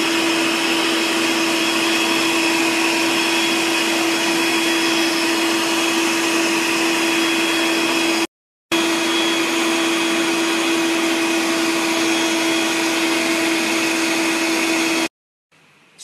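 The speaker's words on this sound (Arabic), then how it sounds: "نحتاج في هذه الوصفة إنه نخفق البياض لحد ما يتكون إلى مرنج" An electric mixer whipping egg whites with a little white vinegar into stiff meringue for a Ferrero Rocher cake, a steady high motor whine that cuts out briefly and then stops near the end.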